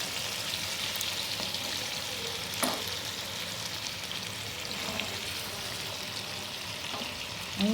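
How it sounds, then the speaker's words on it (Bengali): Chicken pieces fry in oil in a pan for pulao, giving a continuous sizzle with a few soft clicks of stirring and turning. No one speaks. "আমি উল্টে পেল্টে একটু গোল্ডেন কালার করে ভেজে নেবো এটাকে।"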